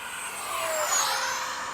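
A Freewing 70mm F-35 RC model jet with an electric ducted fan makes a low pass, a whooshing high-pitched whine that swells and fades as it sweeps by, with a faint pitch-shifting tone.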